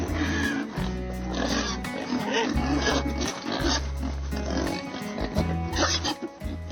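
Pigs in a climate-controlled 2,000-sow barn in central Illinois at dawn, a dense, continuous chorus of grunts and oinks over a steady low ventilation hum, loud and close throughout.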